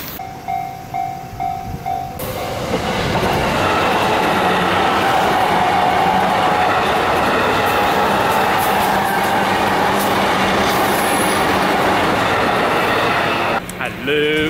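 A train rumbles past close by with steady clattering wheels and a broad roar, preceded by a short tone and ending as it fades.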